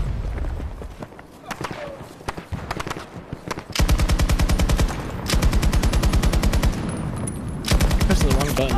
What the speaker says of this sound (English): God, I love this LMG, dude. This LMG is so good.